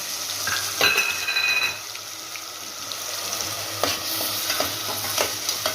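Ground masala paste is added to hot coconut oil in a pressure cooker for a Tamil chicken gravy, giving a soft sizzle with stirring scrapes and a few sharp clinks of a spoon, moderately close, with no talking.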